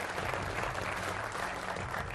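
A studio audience on a televised political debate show claps continuously and fairly faintly, a dense steady patter of applause welcoming a guest.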